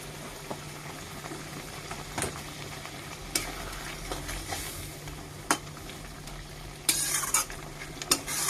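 An omelette curry simmering in a pan, with a soft continuous bubbling and sizzle and sharp scrapes and clinks of a spoon stirring at irregular intervals, close by and moderately quiet.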